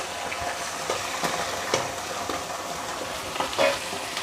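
A paste of ground ginger, garlic, pepper, cumin and fennel sautés in a pan, giving a steady close sizzle with repeated scraping stirs.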